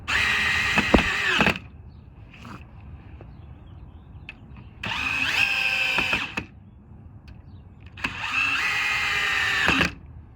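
Cordless drill driving screws into storm door hinges, three separate loud whirring bursts of about two seconds each, rising in pitch as the screws seat, with quiet pauses between.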